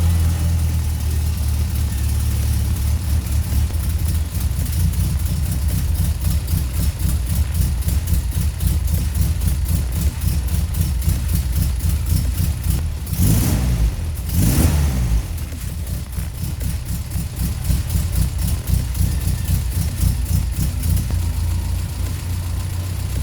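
A Toyota Corolla KE55 engine idles steadily and close, rumbling evenly, then revs sharply twice in the middle before settling back to idle.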